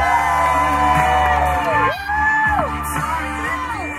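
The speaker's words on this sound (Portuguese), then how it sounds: "Uma salva de palmas pro Caio!" A group at a farewell party for friends leaving for the US cheers loudly for Caio, with whoops, yells and excited voices close by in a continuous wash of crowd noise.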